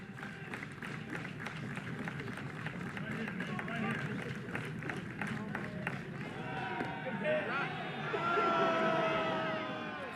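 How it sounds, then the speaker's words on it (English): A college baseball crowd at an Oklahoma versus Kentucky game cheers a pitch, a broad steady roar with scattered claps and whoops that swells toward the end, under continuous commentary. "Crowd loved that pitch."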